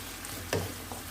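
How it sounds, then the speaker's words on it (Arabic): Chicken filling for briouat cigars frying in a pan and being stirred, a steady close sizzle with one brief scraping stir in the middle. "نبقاو نحركوه غير بحال هكا المقله باش هذاك الماء اللي كيطلق لينا الدجاج يتشحر لينا مزيان"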